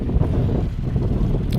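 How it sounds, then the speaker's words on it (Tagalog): A steady, rumbling gust of wind buffets the microphone throughout, a dense low roar with no voices, in Bambang, Nueva Vizcaya, Philippines. "Ganda dito. Mahangin."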